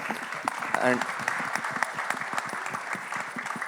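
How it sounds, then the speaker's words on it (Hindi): Enthusiastic applause from a crowd at a film song launch event, dense steady clapping throughout with a brief voice or cheer rising near the start. "सो बस उनके लिए ज़ोरदार एक बार तालियां हो जाएं."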